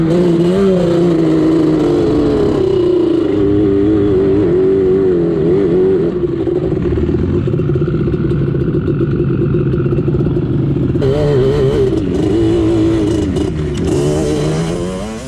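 Off-road vehicles drag race on the Glamis sand dunes at Lizard Hill, with loud, close engines revving and droning continuously, pitch rising and falling as they accelerate, with a clattering edge throughout.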